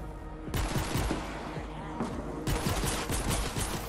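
Gunfire in the video game Fortnite: Save The World, a dense run of rapid, loud shots in bursts with brief gaps, fairly close and dominating the mix.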